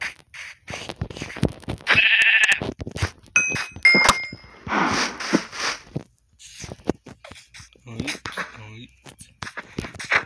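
Sheep bleat in the Minecraft video game, a short in-game cry amid chimes and other game effects, with someone talking over much of it.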